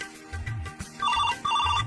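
A phone rings with a bright electronic ringtone, two short trilling bursts over a low background rumble.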